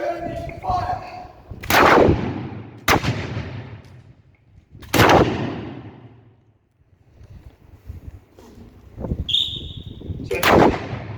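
Rifle volleys during a historical drill and shooting display at Landguard Fort, Felixstowe: four or five loud, sharp cracks spaced a few seconds apart, each trailing off in outdoor echo, with wind noise between shots.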